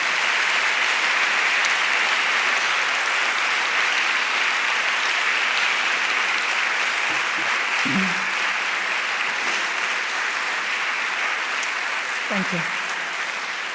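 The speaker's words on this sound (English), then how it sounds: "You already learned when an applause is definitely needed" An audience applauds steadily at a university opening ceremony for a rector's speech. The dense clapping holds for the whole stretch, with a brief spoken voice heard over it.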